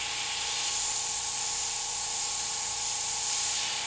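Airbrush spraying a fine green paint mist over a tiki painting, a close, steady airy hiss that swells slightly after the first second and holds evenly to the end.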